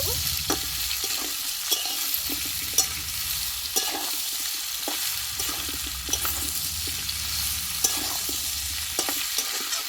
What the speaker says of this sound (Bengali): এবার এখানে বাকি সবজিটা আমি দিয়ে দেবো দিয়ে আমি ভালোভাবে নাড়াচাড়া করে